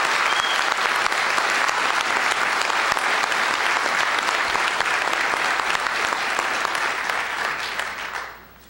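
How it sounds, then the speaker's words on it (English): Sustained applause from a town meeting crowd in Groton honoring the call firefighters, dense and steady for about eight seconds before fading out at the end. "If everybody could give them a round of applause for their dedicated efforts"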